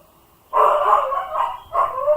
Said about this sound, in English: my dogs are barking and complaining because they can't go outside